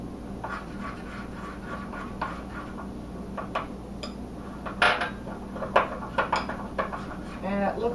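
Rum extract icing is mixed in a bowl, with quiet scraping and intermittent clinks and taps of a utensil against the bowl that become sharper and louder in the second half.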